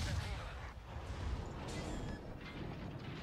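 Warship deck guns fire in World of Warships, the distant booms and rumbling blasts rolling under a steady low wash of ship noise.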